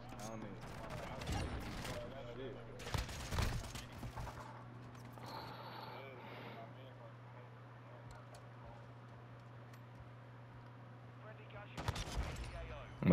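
Bursts of rapid gunfire in the video game Modern Warfare 2 crackle in short volleys at the start, middle and end, with a steady low hum and faint talk between them.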